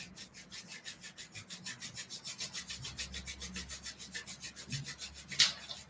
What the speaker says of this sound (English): bring the palms of your hands together. Start rubbing them